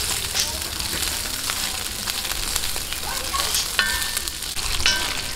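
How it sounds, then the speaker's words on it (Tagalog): Sliced radish sizzles steadily in hot oil in a pan while being stir-fried toward light brown, a continuous close crackle with occasional scrapes and clinks from stirring. "gisa-gisahin lang po natin hanggang medyo siya mag-light brown"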